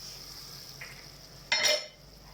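Meat frying in a pan gives a soft steady sizzle, then a brief louder burst of crackling and hissing as it is stirred, before settling back to a quiet fry.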